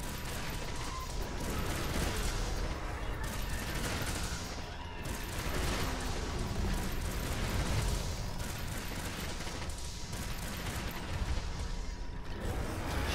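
Pierce ammo from a light bowgun fires in Monster Hunter World Iceborne as a dense, continuous run of rapid mechanical shots and clattering reload sounds, fairly loud and sustained throughout, with game effects layered underneath.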